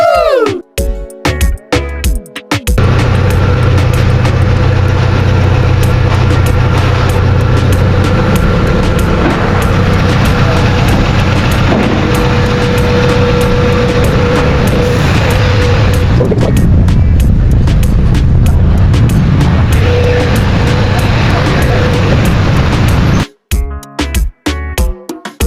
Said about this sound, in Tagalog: Our Honda Civic V16 just got fired up.